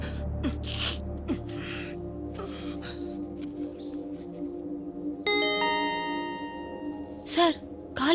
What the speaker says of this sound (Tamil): சார், காலிங் பெல் அடிக்குது.